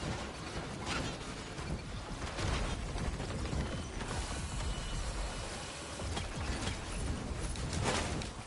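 A scrapper machine in the video game Risk of Rain 2 grinds and clanks steadily, with loud overlapping mechanical rattles and crunching impacts and no talk.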